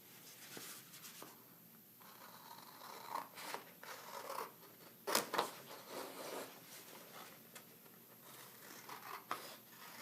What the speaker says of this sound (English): take your scissors and the inspirations like "You Are Beautiful." I'm going to cut that out.